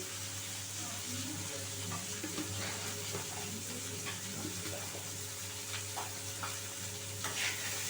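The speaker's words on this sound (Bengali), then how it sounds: "সবজিগুলো ভালোভাবে আমি নুন দিয়ে ভেজে নেব।" Mixed vegetables fry with salt in a pan for semolina pulao, a steady close sizzle with stirring scrapes throughout and a faint hum beneath.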